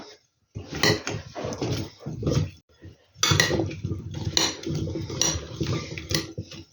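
Mixing seasoned potatoes and fish together in a baking dish, with repeated clinks and scrapes of utensils against the dish, a short pause partway through, and busy handling sounds close by without talking.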